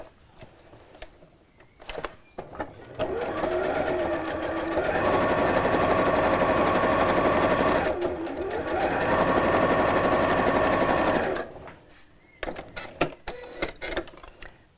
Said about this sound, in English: I'm going to sew these across the top, but within the seam allowance, so quite close to the edge